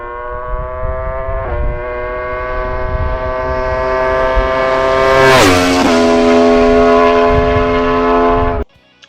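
A high-revving Aprilia RSV4 V4 motorcycle engine screams, its pitch climbing steadily, dipping briefly at a gear change, then cutting off sharply.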